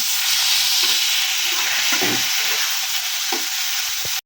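Chicken pieces fry in a little hot oil for restaurant-style mixed fried rice, a steady loud sizzle with a few soft stirring scrapes and clinks throughout.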